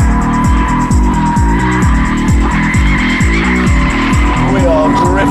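A car drifts with a loud, constant engine roar that rises and falls in repeated revving sweeps, while tires squeal steadily underneath, all very close and continuous for several seconds.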